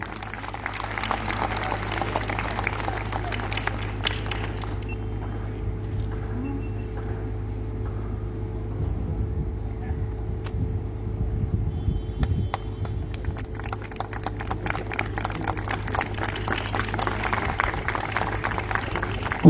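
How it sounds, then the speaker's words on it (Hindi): An audience at the inauguration of a new institute building in Uttar Pradesh claps in sustained applause, a dense crackle of many hands that carries on steadily under a low hum of the hall. "आप लोग जोरदार तालियों से हमारे साथ बने रहें।"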